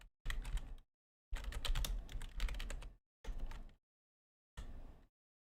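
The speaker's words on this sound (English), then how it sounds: "you can hear the keyboard a little bit?" Fast typing clatters on a computer keyboard in four separate bursts, the longest near the middle, with silent pauses between them; the keystrokes are close and crisp.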